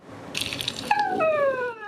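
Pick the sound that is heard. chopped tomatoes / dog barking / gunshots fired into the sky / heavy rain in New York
dog barking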